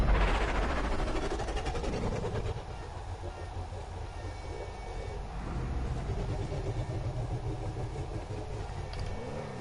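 The XA21 supercar in Grand Theft Auto 5 drives at speed, its engine a steady loud drone that surges at first and then holds with a rumbling roar, with no talk.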